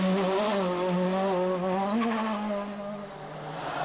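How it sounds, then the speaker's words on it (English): A rally car at Rally Madeira smokes its tyres, its engine note rising and wavering loudly across a few seconds with tyre squeal, close and alone without talk. "smoking the tyres, excellent stuff there from Bruno"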